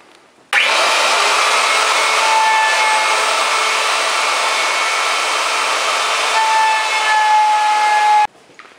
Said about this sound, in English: the small amount of lip that I'm going to have to actually take off with the router table on the inside and on the outside